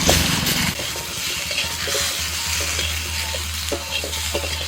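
Loud sizzling of papaya and potato pieces hitting hot oil, followed by steady frying and occasional stirring scrapes.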